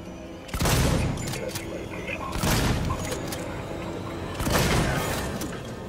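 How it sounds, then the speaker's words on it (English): Three heavy, booming shotgun blasts in Alien: Isolation, spaced about two seconds apart, each loud and close over a steady rumbling background, with a voice speaking between shots. "shotgun them all!"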